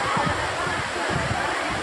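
Water pours down the Kutralam waterfall in a steady, loud rushing roar that fills the whole stretch without a break.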